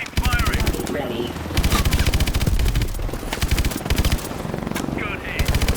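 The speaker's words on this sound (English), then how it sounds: "Keep firing!" Rapid automatic gunfire from the Call of Duty Advanced Warfare video game rattles in loud, sustained bursts with brief gaps, and scattered radio-style voices and effects sit beneath the shooting.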